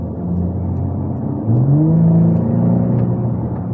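A Porsche Cayenne engine idles with a low rumble, then revs up sharply, its exhaust pitch rising and holding before settling back down, heard close.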